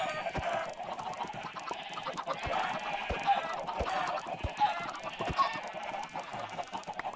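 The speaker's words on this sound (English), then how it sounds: "Just gonna kill a few chickens." Minecraft chickens cluck steadily in a busy loop, with short repeated clucks and occasional sharper squawks over a constant background hum.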